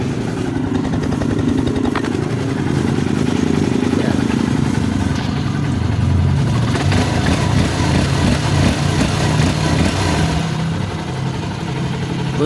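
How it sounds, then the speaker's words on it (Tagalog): An overhauled XR150 motorcycle engine idles nearby with a steady, even mechanical putter, continuous and fairly loud, with faint voices in the background. "So tahimik na yung kanyang motor."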